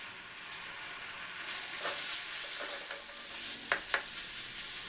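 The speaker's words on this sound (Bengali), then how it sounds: "এই মশলাগুলি দিয়ে ডিমগুলোকে ভালো করে কষিয়ে নেব" Eggs frying with onion paste, ginger-garlic paste, cumin and turmeric, a faint continuous sizzle with a few soft spoon taps and scrapes toward the end.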